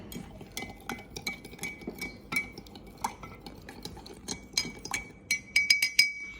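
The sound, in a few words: stirring a beverage in a glass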